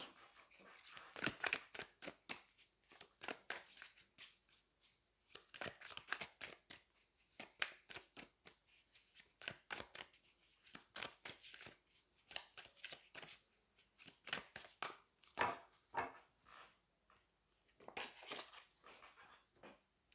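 A tarot deck is shuffled by hand for about twenty seconds before a card is drawn. Rapid clusters of papery riffles and taps repeat in uneven bursts, close but soft, with no voices.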